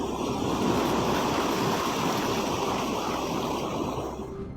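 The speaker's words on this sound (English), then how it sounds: "Imagine how powerful ocean waves must be if they can rise through 40-meter" Ocean waves surging up through 40-meter-deep underground cracks near a dormant volcano, a broad roaring rush of water with a churning, wind-like texture, loud at first and gradually easing toward the end, with no voices.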